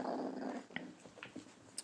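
Puppies from a litter growl at each other while playing, a low rumbling growl near the mic broken by a few short yips and whimpers.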